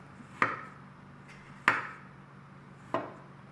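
Three crisp, evenly spaced cuts, each a sharp, hot knife stroke through a soft, granular mass of kinetic sand, close up and quiet in between.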